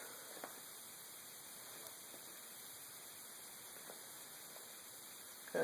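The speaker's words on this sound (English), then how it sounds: "The stove has a nice, even, consistent sound to it." Homemade alcohol stove burning with a steady, even hiss under a pot, broadband and constant with no sputtering, a few faint clicks scattered through.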